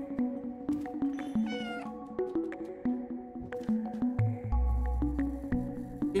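A cat meows repeatedly in the video game Stray, each call short and tonal and close, over soft game sounds and a drawn-out low squish near the end.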